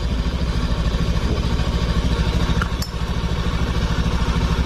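A 2017 Honda Scoopy scooter engine idles with a steady, close, pulsing putter and a light mechanical clatter, and there is one brief sharp tick near the middle.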